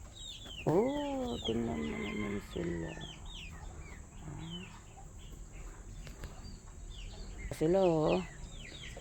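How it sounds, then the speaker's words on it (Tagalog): Several farm chickens cluck and call in short harmonic bursts near the mic, loudest near the start and again close to the end, alongside ducks, a turkey and a cat, with a person talking softly over them outdoors. "Gagandahang mga manok."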